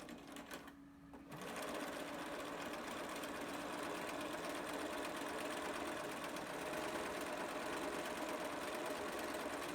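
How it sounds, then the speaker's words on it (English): A sewing machine sews a straight stitch along the curved edge of fabric for a small adult face mask, a close, steady, fast whirring hum that starts after a brief pause and continues unbroken. "You're going to sew a straight stitch along the curved edge of the fabric."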